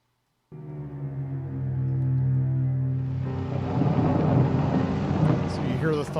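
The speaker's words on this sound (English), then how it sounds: "you hear the thunder that we just incorporated into it because it was thundering all around us and raining" A deep, sustained rumble of a real thunderstorm rolls in and swells, joined by broadband noise like rain and wind; harmonic guitar tones hum underneath throughout.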